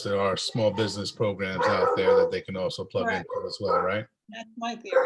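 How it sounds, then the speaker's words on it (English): A dog barks and yips in short bursts indoors during a school board meeting, heard under continuous talking. "Apologies for the dog."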